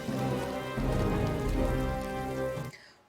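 Rain on a rainy night in a Rogue One film scene pours down in a dense, steady hiss, with a low rumble swelling underneath before the sound cuts off near the end.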